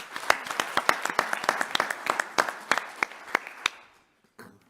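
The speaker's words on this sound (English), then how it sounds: "Let's have a round of applause for all 4." Light applause from a medical conference audience after a surgical abstract competition, a thin spattering of individual claps, fairly sparse and distant, trailing off into near silence at the end.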